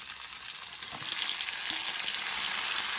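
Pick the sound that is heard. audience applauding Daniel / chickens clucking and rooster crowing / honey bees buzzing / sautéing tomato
sautéing tomato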